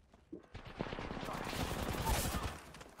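Rapid gunfire in the shooter Apex Legends, with a Mastiff and Havoc in play, crackles in a dense, fast burst of shots that builds and stays steady for a few seconds, moderately loud and mixed with faint voice.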